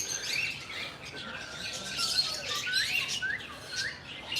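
Many birds calling together outdoors in Bournemouth, a busy layer of overlapping chirps and squawks at middling distance over steady background noise, with no speech.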